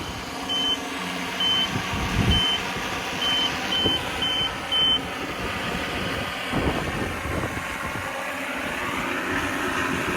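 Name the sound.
drone landing automatically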